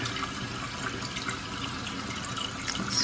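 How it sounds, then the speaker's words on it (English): Water steadily rushes and splashes into a toilet bowl after a fill valve repair, a continuous close hiss with faint gurgles and no talking. "you see the water's coming down"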